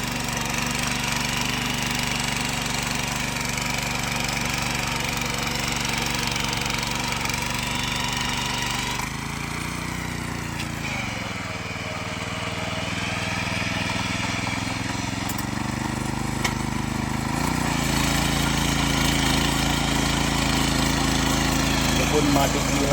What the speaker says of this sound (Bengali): মাটি কিভাবে গুঁড়ো হচ্ছে দেখুন। এই দাদা মেশিন চালাচ্ছে